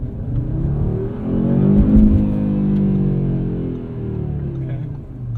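A 2022 Audi RS 3's turbocharged engine pulls at half throttle, its note swelling and climbing to a peak before easing back, heard from inside the car as a smooth, loud drone.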